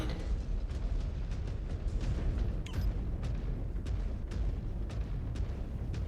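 A mech's reactor core blows up in MechWarrior 5: Clans, a sustained roaring rumble with a dense low-end explosion wash and scattered crackling bursts, loud throughout without voices.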